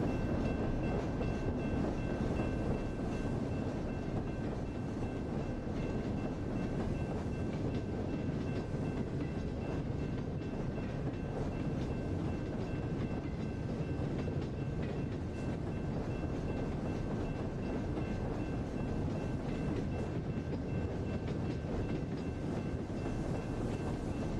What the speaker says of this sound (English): We got a nice, pretty decent train here